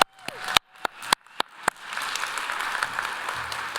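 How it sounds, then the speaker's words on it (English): A few sharp, separate claps ring out first, then a symposium panel audience breaks into steady, sustained applause. "we need a round of applause for Luke especially."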